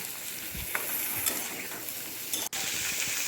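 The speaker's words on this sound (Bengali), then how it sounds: "এবার এই সমস্ত সবজিগুলোকে একবার ভালো করে মিশিয়ে নিচ্ছি" Vegetables with ridge gourd sizzle loudly in a pan as they are stirred, with a dense frying hiss and occasional scraping strokes close by.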